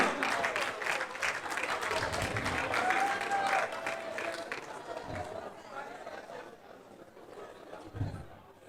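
Audience applause for a contestant called to the stage at a Gabonese beauty pageant, a dense crowd clapping with chatter that gradually thins and fades toward the end.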